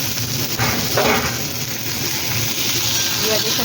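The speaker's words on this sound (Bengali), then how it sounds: "পেঁয়াজের সাথে আলুটাও ভালো করে ভাজবো।" Potato frying together with onion in hot oil, a steady close sizzle and hiss running continuously throughout.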